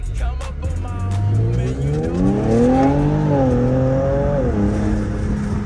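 A tuned 450whp all-wheel-drive Infiniti Q50S launching hard from a stop, its engine climbing steadily in pitch through a sustained loud pull heard from inside the car.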